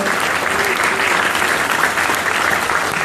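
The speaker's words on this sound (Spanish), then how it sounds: "Un fuerte aplauso." Steady, dense audience applause from an evening event audience in a Spanish-speaking setting, filling the whole stretch at an even, full level without pause.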